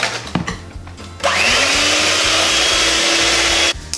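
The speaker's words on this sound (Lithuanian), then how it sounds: "Ir viską maišome tol, kol cukrus ištirps." Oat cookie batter with about 100 grams of sugar being mixed until the sugar dissolves, heard as a loud, steady whirring drone of a mixer running alone for a few seconds after a brief start.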